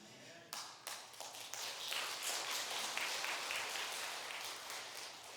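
A church congregation breaks into applause after the preacher's greeting, scattered claps quickly swelling into a full, sustained round of clapping that carries on evenly, heard from a distance in a reverberant sanctuary.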